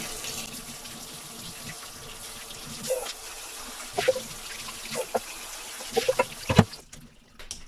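Tap water runs steadily over salted mandarin orange segments in a sink, a continuous gush with occasional splashes and clinks before the flow cuts off near the end.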